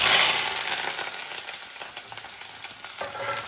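Small onions and curry leaves fry in hot oil for a prawn thokku, giving a steady, close, bright sizzle and crackle that starts loudest and settles into an even hiss with no voices.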